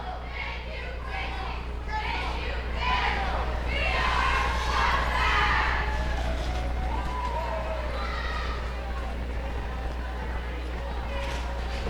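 Crowd cheering and shouting at a roller derby game in an indoor arena, a sustained roar of voices with whoops and yells that swells in the middle, over a low steady hum.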